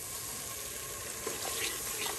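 Water is poured into a hot pan of cooking kaleji (liver) in a home kitchen, making a steady close hiss and gush with light sizzling, constant for the whole stretch and with no voices.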